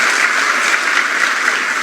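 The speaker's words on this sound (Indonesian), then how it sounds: "Tepuk tangan buat Tuhan." Church congregation clapping steadily together, a loud continuous wash of many hands without speech over it.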